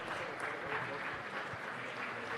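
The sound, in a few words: round of applause for a councilman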